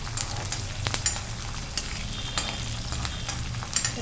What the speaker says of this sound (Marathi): आता आपण ही फोडणी चांगली खमंग करून घेऊ।